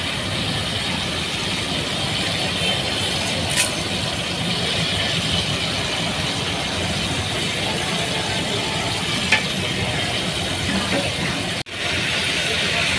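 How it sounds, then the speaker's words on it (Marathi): Whole spices (khada masala) dropped into about two to two and a half litres of hot oil sizzle loudly and steadily, a dense continuous hiss that holds its level throughout with no talking. "तेल गरम झाल्याबरोबर तुम्हाला खडा मसाला टाकायचा आहे"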